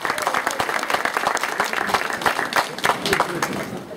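A crowd at a community health event in Santa Cruz de Cocachacra, Peru applauds, producing steady, dense clapping for several seconds at close range.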